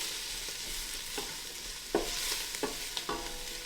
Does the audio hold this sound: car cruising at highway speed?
no